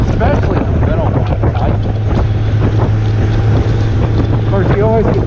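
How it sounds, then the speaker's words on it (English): Loud, steady wind roar buffeting the microphone with a low engine drone beneath, continuous throughout while riding a motorcycle at speed. "riding, fighting that wind"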